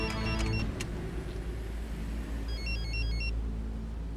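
A mobile phone rings with repeated short electronic tone patterns inside a moving car, heard over steady engine and road rumble, with no talking.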